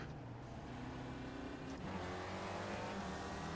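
A Spec Racer Ford race car in the iRacing sim at Okayama, its engine droning steadily and then changing pitch with a quick downshift around the midpoint, loud and close throughout.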